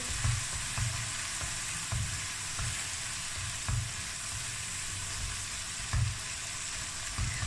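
Chopped boiled potatoes get stirred into a frying masala in a pan, with a constant close hiss of oil and soft periodic thumps of a spoon mixing and lightly mashing, and no voices.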